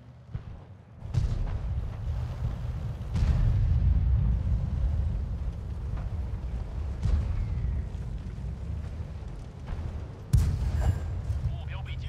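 Type 64 light tank firing its gun in World of Tanks: a sharp booming report near the start, another heavy blast around three seconds and a third late, over a steady low battle rumble with someone talking.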